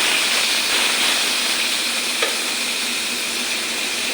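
Fish fat and potato pieces frying in a pan over low heat give a steady, close, unbroken hiss of sizzling oil that holds evenly throughout, with no voices.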